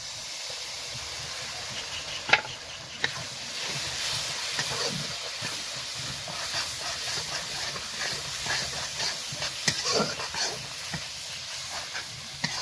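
Ground mustard flower paste goes into a pan of hot oil with dry chilli and cumin ground on a grinding stone, giving a steady broadband sizzle with occasional sharp pops, close and continuous, with no voices.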